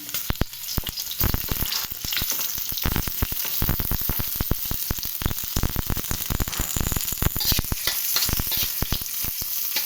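Garlic and onion sauté in hot oil for a Filipino chopsuey, crackling and spitting loudly and close with dense irregular pops and stirring.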